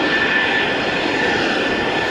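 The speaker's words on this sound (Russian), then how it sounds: "Один за другим МиГ-29 и Су-33 возвращаются на знакомую полосу." MiG-29 and Su-33 jet fighters landing on an airfield runway in wind and snow, a loud, continuous roaring engine noise close by, steady for the whole moment.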